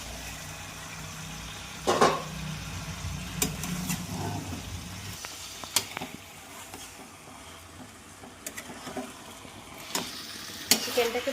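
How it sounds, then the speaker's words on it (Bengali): Chicken stirred and frying in a pan with whole garlic and ground spice paste, a soft continuous sizzle broken by scraping and clinking of the spoon against the pan, with a few sharper knocks. "চিকেনটাকে ভালো করে নেড়ে চেড়ে নিতে হবে, যাতে নিচে লেগে না যায়।"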